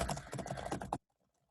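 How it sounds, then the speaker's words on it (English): Rapid typing on a computer keyboard, a quick run of close clicking keystrokes for about a second before it stops into silence. "Obviously, I'm just typing gibberish."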